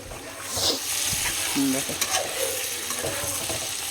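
Eggplant, potato and onion fry in oil in a home kitchen, crackling and sizzling up close while a utensil stirs and scrapes, with a brief murmur of a voice in the middle.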